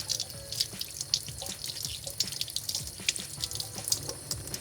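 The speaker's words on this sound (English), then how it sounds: "So I'm going to turn this on to low pressure," A Delta Touch2O kitchen faucet runs at low pressure, and water splashes steadily into the sink with small drips and spatters. The sound is close and continuous, with no voices.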